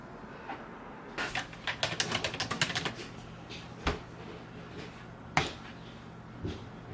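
Bursts of rapid key clicks on a keyboard, a quick flurry of typing followed by a few scattered, isolated taps, close and moderately loud with no talking.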